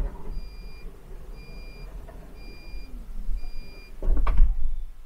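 A Volkswagen T6.1 California's sliding door warning beeps repeat about once per second, four in a row, over low rumble, then a thud and rattle as the door slides shut.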